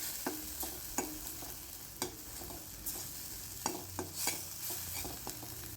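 Garlic and curry leaves being sautéed in a pan give a soft, continuous sizzle with scattered light scrapes and taps as the mixture is stirred, fairly faint and without voices.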